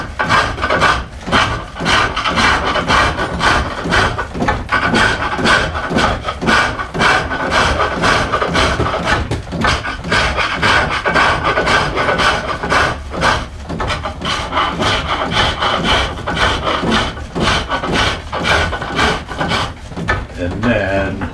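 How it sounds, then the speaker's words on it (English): Fingernail gouge reducing a collar on a wooden stool stile turned on a lathe, a loud sustained scraping cut pulsing in quick regular strokes throughout, with brief speech mixed in. "So I'll use this little fingernail gouge. So to reduce that size,"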